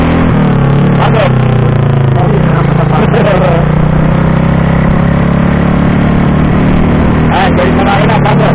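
Motorcycle engine revving steadily during a day-one riding practice with clutch release, a continuous mid-pitched drone that rises and falls under intermittent talking throughout.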